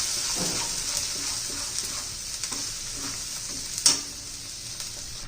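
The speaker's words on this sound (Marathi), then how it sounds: "कांदा खोबरं लसण आलं आणि कोथिंबीर असं तेलामध्ये परतून घ्यायचे तेल सुटेपर्यंत" A ground paste of onion, coconut, garlic, ginger and coriander fries in oil for a spicy village-style bitter gourd dish. A steady close sizzle runs under soft rhythmic stirring, with one sharper spoon knock near the end.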